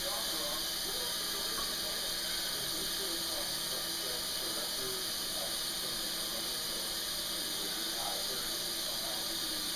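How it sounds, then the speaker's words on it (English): Tap water runs steadily into a cooking pan at a home stove, a soft, continuous hiss that stays even and fairly quiet for the whole stretch. "I'm going to go ahead and fill this pan with some water."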